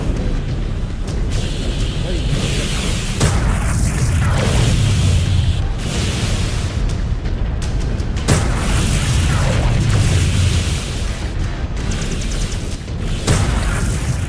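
A mech exploding as it is destroyed in MechWarrior 5, loud continuous booming blasts and rumble with whooshes, heavy and close throughout.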